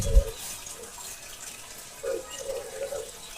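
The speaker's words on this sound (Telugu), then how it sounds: "ఇక్కడ కొండల్లో నుంచి నీళ్ళు అయితే వస్తూ ఉంటాయంట." Water flowing down from the hills at the Varahi Devi temple in Srisailam, a soft steady running trickle like a tap, faint and continuous with a brief louder burst at the start.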